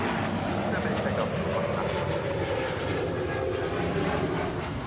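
Airliner engines roar at full power during takeoff at Sydney Airport, a loud, steady broadband rumble that holds evenly throughout with no break.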